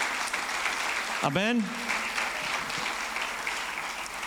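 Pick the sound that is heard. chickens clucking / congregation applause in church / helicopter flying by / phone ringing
congregation applause in church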